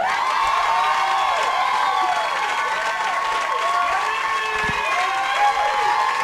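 Comedy club audience at The Punchline in Atlanta applauding and cheering as a comedian is introduced, a steady dense wash of clapping with whoops and shouts on top, loud and continuous throughout.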